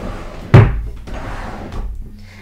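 A drawer in an artist's studio is shut with one sharp, loud wooden thud, followed by a quieter rattle or bump a moment later, with no one talking.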